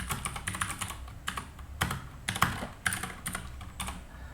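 Rapid, uneven typing on a computer keyboard during work in Ubuntu, with close, crisp key clicks in bursts and a few louder strokes, no talking.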